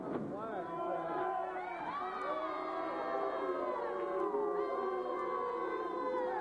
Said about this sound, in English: Myers wanting recognition and the crowd booing